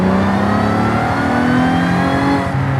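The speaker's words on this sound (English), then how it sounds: "the supercharger does sound pretty good" Supercharged car engine in Forza Horizon 5 revving steadily, a loud continuous drone with a rising whine layered over the engine note, close and alone without voices.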